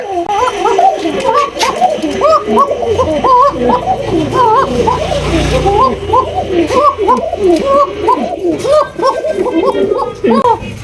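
Racer pigeons at a low-priced pigeon market coo continuously, many birds close by in a dense, overlapping chorus with a steady loud murmur and no break.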